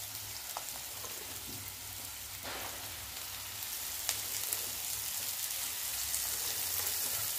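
Chopped cabbage goes into a pan of frying dal, a faint, soft sizzle with a few small knocks and crackles.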